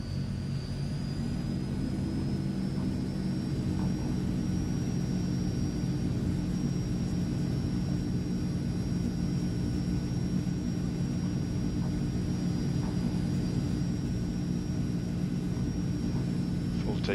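Transall C160 engines hum steadily in Microsoft Flight Simulator, a constant droning whine with a high tonal line that holds for the whole stretch, while a voice talks now and then.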